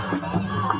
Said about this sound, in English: It's a very loud, lively crowd tonight.